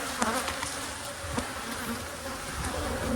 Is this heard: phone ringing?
no